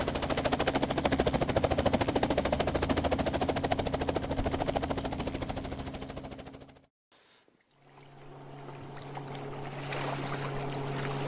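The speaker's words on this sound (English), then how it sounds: "Helicopter." A helicopter is heard as a loud, steady rotor chop with a constant engine drone for about seven seconds. After a short gap, a different steady engine hum follows.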